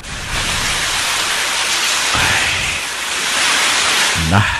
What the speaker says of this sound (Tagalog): Grabe man sa kay kakusog kayong ulan, pre, oh.